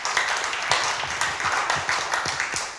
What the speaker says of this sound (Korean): 박상선 위원장님과 곤지암 지역사회보장협의체 위원님께 다시 한번 큰 박수 부탁드리겠습니다